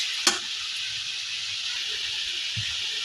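Chopped papaya and green chilies frying in a pan make a steady, moderate sizzle, with one sharp clink of a utensil early on.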